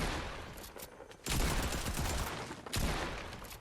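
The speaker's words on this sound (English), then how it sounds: "I got my shotgun!" Shotgun blasts ring out in a video game firefight, two heavy booming shots about a second and a half apart, loud and close over a steady rumble of background game noise.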